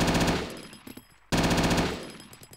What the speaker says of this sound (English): the Automatic Rifleman, which is one of the nicest guns in the games